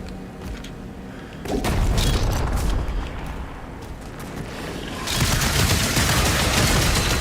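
Repeated explosions and gunfire-like blasts in Doom The Dark Ages, a dense rumbling barrage that swells loud around the second and a half mark and again near five seconds, with no talk.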